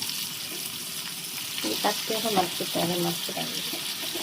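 Kerala-style fish frying in a pan, sizzling in a steady, hissing bed of hot oil. A voice briefly murmurs over the crackle in the middle.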